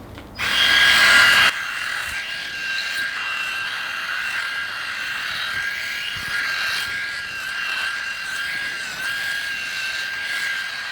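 A Remington Virtually Indestructible electric shaver hums steadily as its blade system scuffs across facial stubble, a close, continuous high whine that starts with a louder burst and then settles into an even buzz for several seconds.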